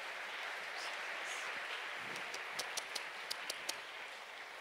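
A church congregation applauds at a Sunday service, a soft, continuous wash of many hands clapping that sounds fairly distant and faint, with a few sharper individual claps near the end.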